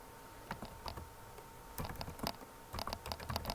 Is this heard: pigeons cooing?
no